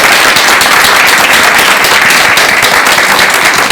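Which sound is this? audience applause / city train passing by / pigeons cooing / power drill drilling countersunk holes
audience applause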